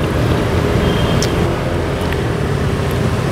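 Congested road traffic on a ride between Surabaya and Blitar, a dense continuous rumble of engines and tyres close by, loud and unbroken, with no voices.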